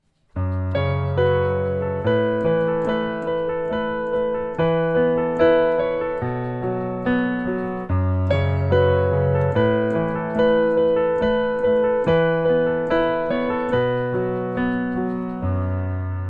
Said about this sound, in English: mistake number 2 is actually adding extra beat to a random bar